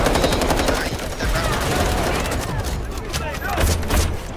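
Rapid bursts of machine gun fire in the shooter game Delta Force, loud repeated volleys with brief pauses, while someone talks over the gunfire.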